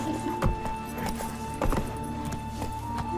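Hooves of Geralt's horse Roach clip-clop at a steady walking rhythm in The Witcher 3 video game, fairly close and clear over an ambient game soundscape, with a few sharper hoof strikes standing out.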